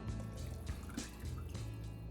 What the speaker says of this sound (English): now we're gonna add our stock back in